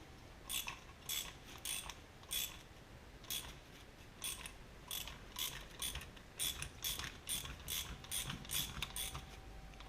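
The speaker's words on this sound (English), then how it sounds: "And then you thread this into the shaft." A part is threaded into the power steering shaft of a 1966 Ford Galaxie 500, giving a run of quick ratcheting clicks in short uneven bursts, close up and fairly quiet, with no talk.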